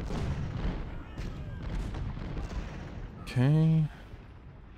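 Artillery batteries fire at the enemy in the Ultimate General: Civil War video game, producing muffled booms and rumbling gunfire under a brief spoken word, with one loud, tonal shot near the end.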